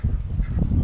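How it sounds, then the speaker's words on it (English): A goose honks near cooling ponds by a mall at dawn, a few short, fairly distant honks over low outdoor rumble. "Just heard a goose."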